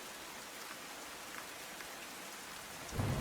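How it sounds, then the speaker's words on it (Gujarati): Heavy monsoon rain falls steadily in Rajkot, Gujarat, where streets are waterlogged: a dense, even hiss of rain striking surfaces with a few faint drips, and a louder low gust or rumble at the very end. No speech is heard. "એક તરફ અવિરત વરસાદ વરસી રહ્યો છે"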